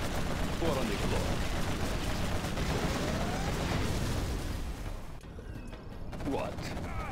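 Dense, continuous rapid gunfire from a GLA quad cannon in Command & Conquer Generals Zero Hour, loud and sustained, easing briefly near the end before resuming with metallic clatter.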